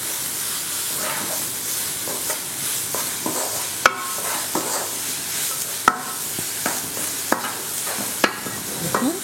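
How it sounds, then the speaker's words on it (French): Onions sizzle steadily in a pan holding meat juices, with repeated stirring scrapes and a few sharp clinks over a constant frying hiss, close and moderately loud with no talk. "on récupère en fait simplement les sucs de la viande et on met les oignons dedans"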